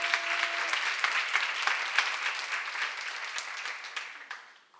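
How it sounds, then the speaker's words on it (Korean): A church congregation at a seminar breaks into sustained applause, dense and even, that fades out near the end. "박수"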